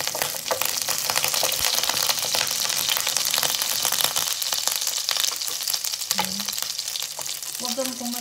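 Garlic sizzling in hot oil and butter in a pan, a loud, steady, dense crackling fry that runs throughout, with faint talk underneath.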